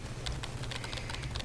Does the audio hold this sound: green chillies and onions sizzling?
no